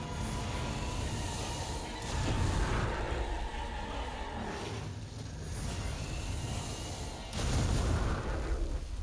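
Cannons fire at a monster's head in Monster Hunter World: Iceborne, with two heavy, booming blasts that each roll out over a loud rumbling background.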